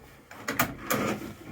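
A couple of soft knocks and a sliding, thudding clunk as a fold-down table panel drops down inside a converted cargo trailer, fairly close in a quiet space.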